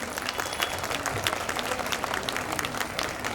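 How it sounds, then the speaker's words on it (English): Students and parents at a school event applaud the headmistress in a steady, dense round of clapping that fills the room and holds evenly throughout. "All the students and parents, a huge round of applause for our HM ma'am."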